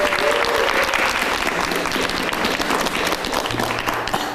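Sustained audience applause at a summer pasture gathering with yurts in the mountains, dense steady clapping from a crowd throughout, with faint voices mixed in.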